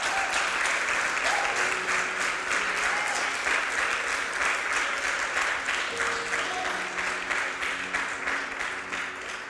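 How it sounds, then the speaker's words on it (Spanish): Church congregation applauding steadily and loudly throughout, a dense sustained wash of clapping with a few faint voices mixed in. "Denle un aplauso al Señor."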